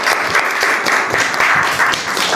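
An audience claps for ranked winners being announced, a dense, even wash of applause held at fairly loud level for a couple of seconds.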